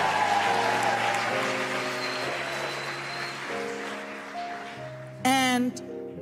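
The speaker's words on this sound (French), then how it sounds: "Veuillez applaudir Dr. Achille Akolatse, qui lui a remis le livre." An audience applauds at a ceremony, a dense, steady wash of clapping that fades slightly over time, mixed with an amplified voice and tones in the hall.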